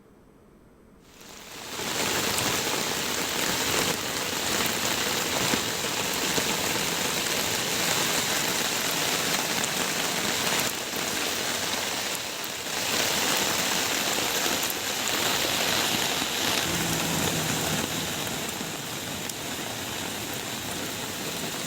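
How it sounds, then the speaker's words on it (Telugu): Heavy, steady rain pours down in Mahabubabad district, where streets and colonies are flooding. It is a dense, continuous roar of rainfall that starts after a brief quiet moment and holds loud and unbroken throughout, with no voices. "మహబూబాబాద్ జిల్లాలో భారీ వర్షం పడుతోంది"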